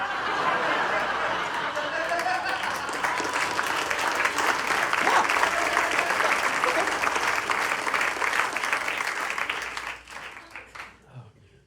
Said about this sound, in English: All this applause, man